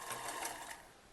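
Sewing machine stitching a loop onto the back neck of a kurti, a steady close whirring run of needle strokes that holds for the full moment before easing slightly, with no talking.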